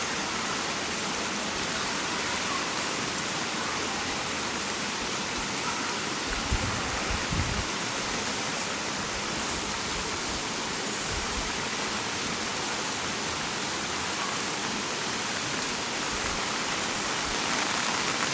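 Steady heavy rain with a broad, even rushing roar, fitting floodwater from the Ghataprabha river swollen by continuous rain in Maharashtra; constant and dense throughout, with a few low thumps near the middle.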